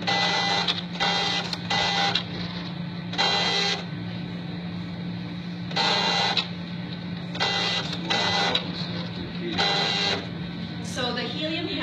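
A gas chromatograph autosampler rinses its syringe with solvent, giving repeated mechanical whirring bursts over a steady low instrument hum, close and even, with brief quieter gaps between strokes.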